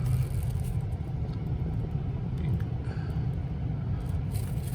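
A car drives into a parking garage, its engine a steady low rumble heard close and fairly loud throughout, with no talking.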